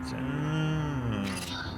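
A golden cow in the PC game Black Book lets out a single long, deep, loud moo that falls slightly in pitch, with a faint higher shimmer toward the end.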